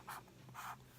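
Two short, faint strokes of a pen or marker writing a number on a surface, each scratch lasting about a fifth of a second, quiet and close with a gap between them.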